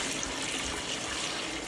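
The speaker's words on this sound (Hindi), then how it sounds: "इसमें और पानी डालें, इसमें हम और पानी डाल रहे हैं, जिससे थोड़ा सा पानी में डूब जाए।" Water pours steadily into a small washing machine, a continuous close, hissing splash at an even level throughout.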